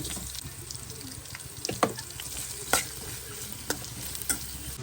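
Onions frying in oil for a puri curry, a constant sizzle with a handful of sharp spoon scrapes and knocks against the pan.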